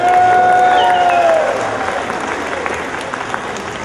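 A crowd applauds at the ribbon cutting opening the new Golden Nugget Atlantic City casino. A loud, sustained wash of clapping follows a brief tone, with a voice over the start.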